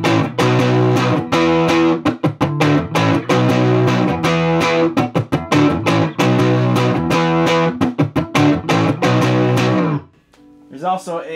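Crunchy, heavily distorted electric guitar chords chug in a steady rhythm through an old radio used as an amplifier, loud and gritty, then cut off abruptly near the end.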